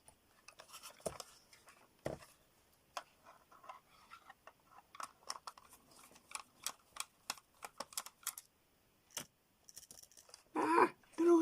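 Small magnetic screws from a mini oscilloscope click and clink together in a quick irregular series of light, close taps, ending in a brief louder rattle.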